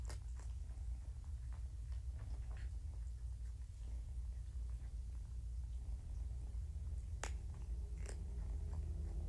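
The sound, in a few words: kittens purring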